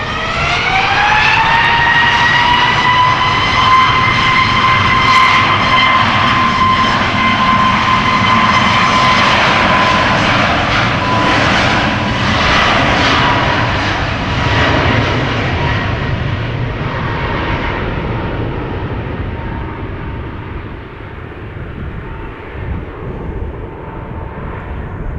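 TUI Boeing 737 Max 8 jet, two years old, departing Amsterdam Schiphol for Fuerteventura: a loud, steady engine roar with a rising whine of tones, slowly fading as it climbs away.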